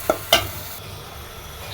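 Onions frying in oil in a pan, set on to cook stinging catfish curry: two quick utensil clinks, then a steady, fairly quiet sizzle.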